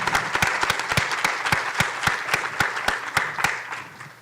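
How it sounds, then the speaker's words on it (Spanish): A small audience at a university engineering faculty event applauds a speaker with sparse, distinct claps that ring out close and irregular, thinning toward the end. "Un aplauso para el maestro Mares."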